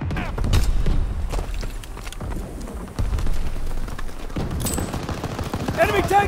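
A Call of Duty WWII tank battle, with continuous gunfire and scattered blasts thick throughout. Urgent shouted commands run over the shooting.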